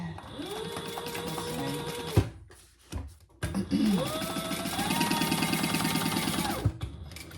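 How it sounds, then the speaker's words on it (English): A sewing machine bastes the sides of a curved handbag in place, running in two long, close, steady whirring stretches split by a brief stop with a few clicks. "I'm just basting the sides in place, and then I'm sewing the bottom in place"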